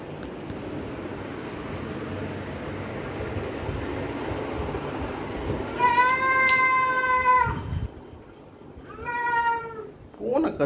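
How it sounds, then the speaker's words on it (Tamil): A cat meows loudly and close by, two drawn-out cries a couple of seconds apart, after a stretch of background noise, with a short third call starting right at the end. "பூனை கத்துது"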